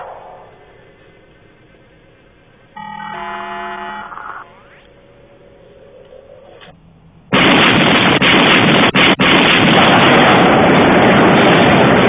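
Bombardment of Delta base: after a stretch of tonal electronic signals, a sudden loud, sustained roar of explosions and blasts fills the space, dense and continuous with a couple of brief dips.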